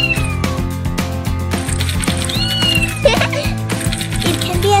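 A K31 remote-control robot kitten toy meows repeatedly over bright, busy electronic music with tinkling and synthetic tones, loud and continuous throughout.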